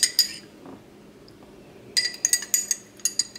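A metal spoon clinks against a drinking glass while a drink is being measured out. A quick cluster of bright chimes comes first, then a pause, then a run of rapid clinks close by.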